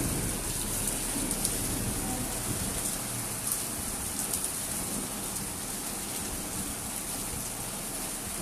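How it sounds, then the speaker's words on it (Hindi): Heavy rain in Taif, a dense continuous downpour pattering close and loud on surfaces, steady throughout with no voices. "ताइफ में यार आज बहुत तेज बारिश हो रही है"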